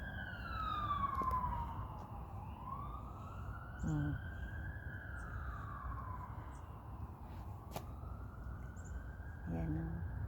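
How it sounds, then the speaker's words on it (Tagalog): Police car, ambulance and fire truck sirens wail together in a continuous, loud rising-and-falling overlap, with no speech in the clip. "Pulis. Ambulance. Tapos, fire truck."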